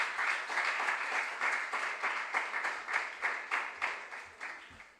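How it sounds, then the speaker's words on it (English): Audience applause for the sponsors at a Junior Science and Maths Quiz regional qualifier contest in the Western Region, a steady crowd clapping that runs loud and unbroken for about five seconds with no talk over it. "Can we have a round of applause for our sponsors?"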